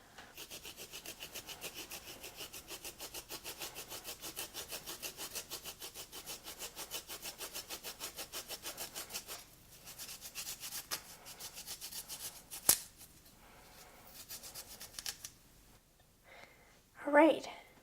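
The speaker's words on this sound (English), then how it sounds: "we're going to take this and use it to grind the ginger up so that it's able to be absorbed in the soup" Fresh ginger being grated on a citrus peeler for Thai soup, a quick, even rhythmic scraping that runs for several seconds and then turns sparse, with a few sharp knocks and clatters near the end.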